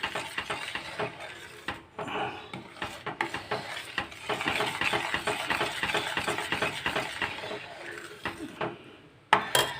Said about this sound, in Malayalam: കട്ടയാവുന്നത് വരെ നന്നായിട്ട് ഇളക്കിക്കൊണ്ടേയിരിക്കണം.